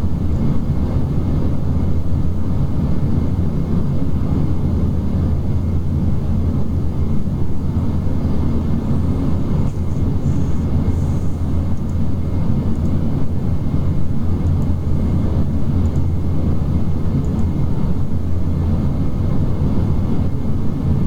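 A Dash 8 Q400 turboprop on approach, heard from inside the cockpit: a loud, constant engine drone and airframe hum with a deep low rumble and no talk.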